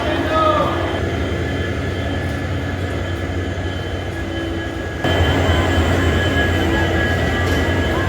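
Kanchanjangha Express train hauled by twin WDG4D diesel locomotives, a loud continuous rumble of engines and rolling stock with steady tonal drones, heard close up from on board without a break.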